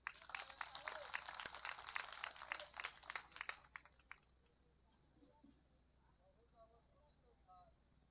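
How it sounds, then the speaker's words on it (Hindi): An audience at an Odia community gathering in Guntur claps in a dense burst of applause lasting about four seconds, then the clapping stops abruptly, leaving a quiet room with faint voices. "जोरदार गोटे ताली"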